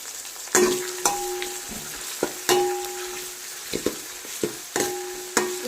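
Small shallots frying in oil for a pomfret fish curry, a steady sizzle broken by several sharp scraping knocks of a ladle stirring the pan, close and alone.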